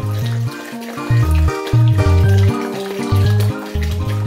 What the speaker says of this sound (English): the water flows slowly and fitfully as we pour it into the bowl